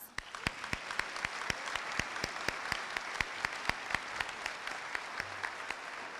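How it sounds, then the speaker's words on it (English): A seated audience at a community salute to service applauds service members: dense, even clapping with crisp individual claps standing out, held at a steady level for several seconds. "Please join me in a round of applause."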